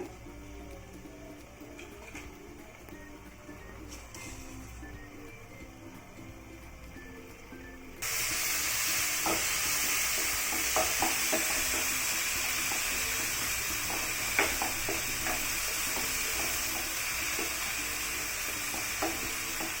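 Beetroot sautéing in a covered pan for beetroot chutney gives a soft steady sizzle that turns into a louder, brighter hiss partway through, with scattered crackles and light stirring clicks throughout.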